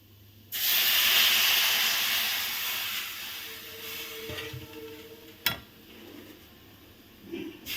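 Water poured into a hot pan of fried moong dal for a green banana curry, a loud steady hiss and sizzle bursting up and slowly easing over several seconds, with a few clinks near the end.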